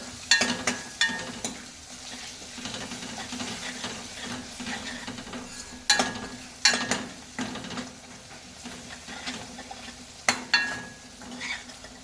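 Turmeric and chilli powder frying in a hot oil tempering in a pan, a steady close sizzle with repeated sharp scraping and stirring clatters from a spoon against the pan.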